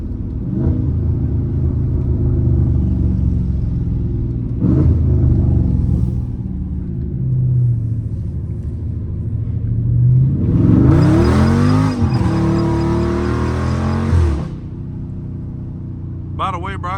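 A Scat Pack car rumbles and revs hard while drifting through turns, the engine surging in bursts with a loud roaring climb near the end, and someone talks over parts of it.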